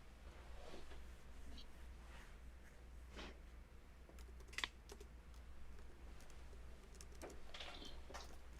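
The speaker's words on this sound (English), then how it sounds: "I think you can hear me typing actually." Soft, irregular clicks of a computer keyboard being typed on at a steady pace, faint over a constant low hum, with some brief louder taps.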